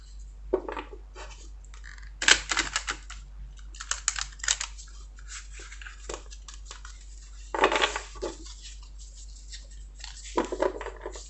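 Tarot cards being drawn and handled, with soft papery shuffles, slides and taps arriving in irregular bursts, close and fairly quiet, no voices.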